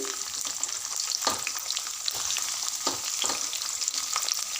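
Sliced onions frying and sizzling in hot oil over mustard seeds and chana dal tempering for a raw banana curry, a steady close crackle with occasional stirring scrapes.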